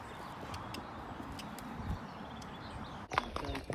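Hooves of a ridden horse clop at a walk at a new outdoor spot, soft irregular steps under wind and distant birds, followed by a sudden louder rustle and clatter near the end.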